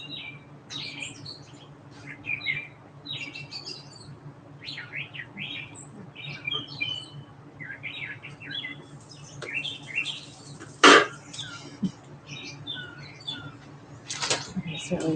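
Birds at a garden feeder chirp and tweet in quick, scattered bursts, fairly close, with a squawk or two and a sharp clatter partway through, over a faint steady hum.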